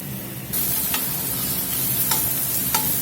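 Tomatoes being smashed in a pan with vegetables for carne guisada, a loud steady sizzle that jumps up after a quiet start, with occasional sharp scrapes of a utensil against the pan.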